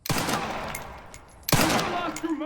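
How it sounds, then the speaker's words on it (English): Gunshots fired at Harry in Resident Evil Requiem, two sharp loud reports about a second and a half apart, each followed by a ringing tail, with a voice faintly underneath. "if you shoot at Harry"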